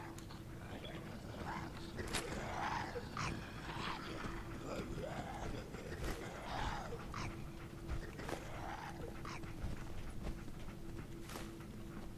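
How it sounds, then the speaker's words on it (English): Dog in the video game Fallout 4 whimpering, yipping and panting in short repeated bursts over a steady ambient game hum, fairly close. "There's a good dog."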